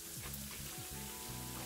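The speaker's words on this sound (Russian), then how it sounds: "Кладем пирожки в разогретое масло." Steady, crackling sizzle of dough pies frying in hot oil, continuous and fairly loud throughout, with no voices.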